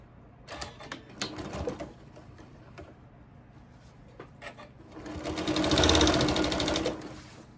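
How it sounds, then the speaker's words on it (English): A sewing machine stitches quilt fabric strips together at a quarter-inch seam, running in short bursts at first and then in a longer, louder stretch, with no talk over it. "Now I'm just going to start sewing these together, 1/4 inch."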